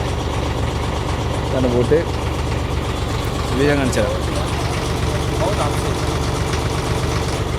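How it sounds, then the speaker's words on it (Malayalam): A boat engine idles at a dock in the UAE, a steady low rumbling hum throughout, with a person talking over it. "ഇതാണ് ആശാൻ്റെ ബോട്ട്"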